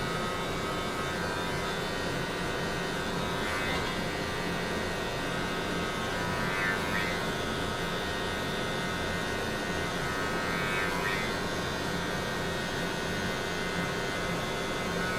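Electric hair clippers with the lever fully open run through hair in a steady, close, continuous buzzing drone while working down a high taper on a haircut.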